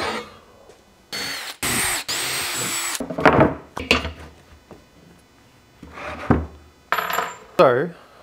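A power drill bores a hole through the steel floor of a KE70 Corolla drift car in short bursts of whining spin, mixed with clanks and metallic knocks from handling tools and parts between bursts.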